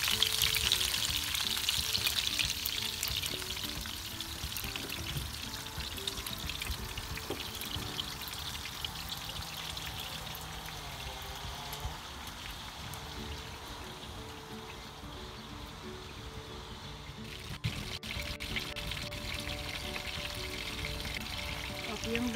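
Dried fish (tuyo) frying in oil in a pan, giving off a steady, moderate crackling sizzle that holds throughout with only slight changes in level; no speech.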